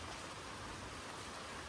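Steady rain hissing down outdoors beside a parked new scooter, a soft broadband wash that stays even and continuous throughout, fairly quiet and with no voices over it.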